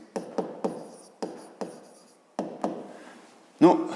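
Handwriting in short, distinct scratchy strokes, about nine bursts with pauses between, close and otherwise quiet.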